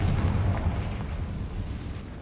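Confringo blasting spell going off in Hogwarts Legacy, a low rumbling boom that rolls on steadily for a couple of seconds, fairly loud and without talk.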